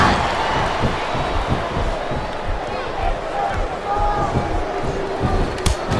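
A capacity crowd roars continuously in a wrestling arena in WWE Smackdown vs RAW 2007, loud, dense cheering with repeated thuds of impacts beneath it.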